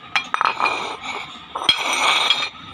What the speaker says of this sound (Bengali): আমি এগুলোকে একটা বাটিতে ঢেলে নেব